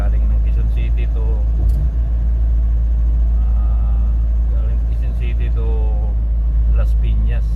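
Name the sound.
car driving on the Skyway expressway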